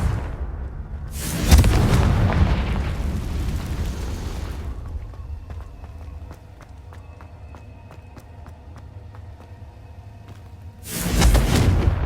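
Bombarda spell explosions in Hogwarts Legacy: two loud, broadband blasts, one early and one at the end, with a long rumbling tail between them and faint ringing game tones.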